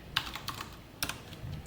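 A few sparse keystrokes on a computer keyboard while a MariaDB query is typed, with scattered soft clicks spread across a couple of seconds in a quiet room.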